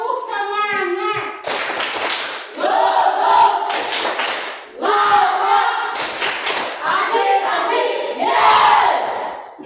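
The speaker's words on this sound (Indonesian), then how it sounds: "Tepuk semangat." An Indonesian eighth-grade class stands and performs a spirit clapping chant, with bursts of loud group clapping and thumps mixed with children's chanting voices in rhythmic rounds.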